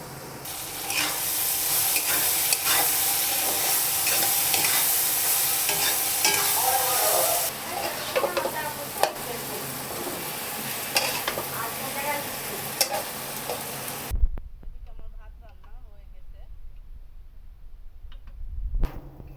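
Watermelon rind sizzles and fries in a pan while being stirred, a loud steady hiss with frequent scraping strokes that drops to a quieter crackle toward the end; no one speaks.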